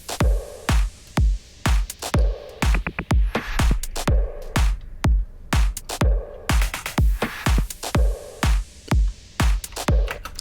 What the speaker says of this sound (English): So there we have it. Quite a wide, varied drum loop. Let's listen to it without the bass.